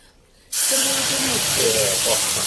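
After a brief quiet moment, a loud, sudden sizzle bursts up close and keeps hissing steadily as hot tempered spices hit a fish curry in the pan.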